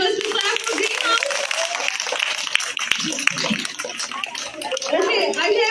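Students in a school quiz clap for the green team, a scattered burst of hands mixed with voices and chatter, fairly close and uneven, with the clapping fading and returning toward the end.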